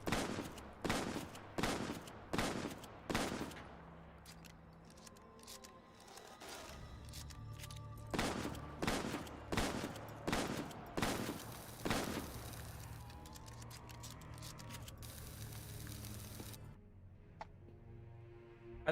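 A rapid-fire weapon in TranZit, fired in two quick bursts of evenly spaced sharp shots, each burst several seconds long, with mechanical clicks and a quieter stretch between them.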